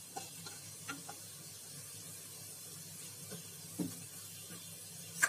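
Cumin seeds crackle in hot oil for a bottle gourd bharta, a faint, steady sizzle broken by a few sparse pops and ticks, with no voices.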